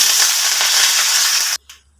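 Curry leaves sizzling in hot oil for tempering with garlic, mustard seeds, cumin and dried red chillies, a loud close hiss that cuts off abruptly near the end, followed by a faint clink.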